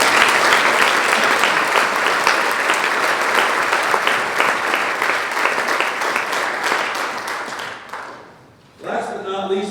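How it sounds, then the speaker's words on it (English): Loud, sustained applause fills a high school spring sports awards event for the 4x4 relay team, then breaks off abruptly near the end before a voice begins speaking. "Let's give a round of applause."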